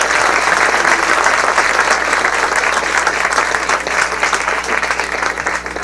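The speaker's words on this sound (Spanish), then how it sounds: "un fuerte aplauso para el maestro, por favor" Sustained audience applause at a national parliamentary debate session, dense steady clapping from a room full of people that holds loud for about six seconds before easing slightly at the end.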